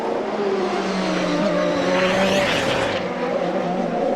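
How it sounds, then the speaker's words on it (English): A CART Champ Car at Miami in 2002 qualifying slews sideways through a turn, a loud continuous engine drone with rising tire squeal and scrubbing noise, steady throughout. "After exploding the wall, a big sideways slew through 6."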